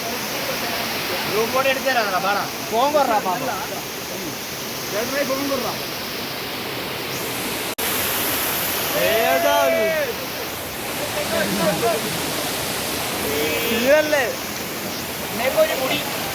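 Steady rushing water of a forest waterfall in the Nethravadi hills roars throughout, with people talking over it in several bursts.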